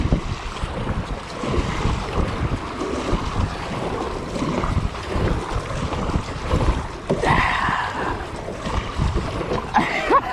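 Two kayaks, a Topper 120 and an Ascend 133X, racing at speed on open water, with rhythmic paddle splashes amid steady wind rush and sloshing water for several seconds.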